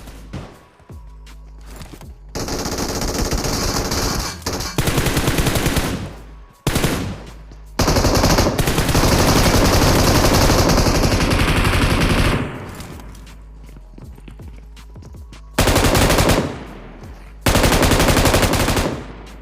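Automatic gunfire from a BGMI battle-royale match, long sustained bursts of rapid shots separated by brief pauses, loud and close with no talking.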